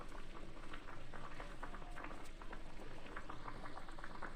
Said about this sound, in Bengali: আমি আলুটাও সেদ্ধ বসিয়ে দিয়েছি